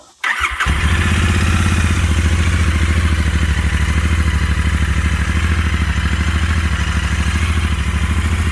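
Harley-Davidson motorcycle with stock exhaust starting up and settling into a steady, loud, close-up idle with a rhythmic lumpy thump and mechanical clatter, no voices.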